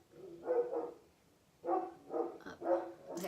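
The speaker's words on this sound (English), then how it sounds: "My dog's barking, so excuse that." A pet dog barks indoors during a home makeup routine, sounding as a string of about five or six short, fairly loud barks in irregular bursts with brief pauses between them.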